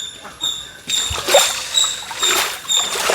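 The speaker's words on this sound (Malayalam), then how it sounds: "വെള്ളം ഇങ്ങനെ ഈ സൈഡിലൂടെ ഒക്കെ ഒഴുകുന്നുണ്ട്" Water splashing and trickling nearby at a guppy farm after heavy rain, with irregular gurgles and a faint steady high tone in the background.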